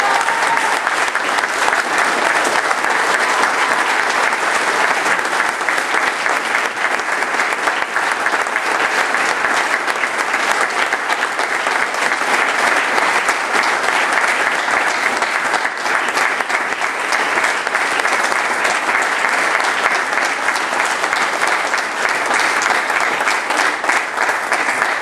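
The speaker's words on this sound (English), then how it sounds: "please give a warm round of applause for the newest members of the Sergeant Audie Murphy Club" Sustained, loud audience applause at a military ceremony honoring new Sergeant Audie Murphy Club members, steady clapping filling the whole stretch without pause.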